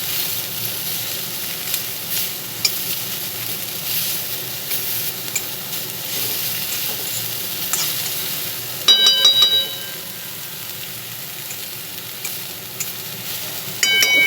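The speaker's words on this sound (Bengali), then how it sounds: "বরবটিটা ভাজতে তো একটু টাইম লাগবে" Yardlong beans and curry leaves frying in a pan give a steady soft sizzle throughout, broken by a short louder burst of stirring and scraping near the middle, with a faint clink toward the end.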